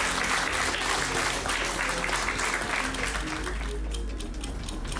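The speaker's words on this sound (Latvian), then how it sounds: "Un tā, 20 sekundes aplausi saites enerģijai." An audience claps steadily in a thick, unbroken wash of applause, loud and close for the whole stretch, with a low rumble underneath.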